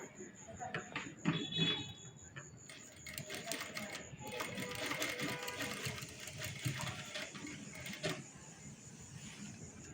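A sewing machine stitches a blouse sleeve seam about half an inch from the edge, its fast mechanical whirring running in short bursts across most of the stretch at moderate loudness, with a voice talking over it.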